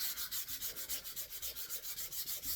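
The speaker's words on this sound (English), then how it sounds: "You always want to sand with it" Sandpaper rubbed over a wooden gunstock being refinished, a close, steady rasping scrape in an even back-and-forth rhythm of roughly five strokes per second.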